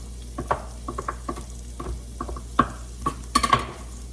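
Chopped oyster mushrooms sizzling in a pan while a utensil stirs them, a soft steady fry broken by sharp scrapes and clinks close up, several in a quick cluster near the end.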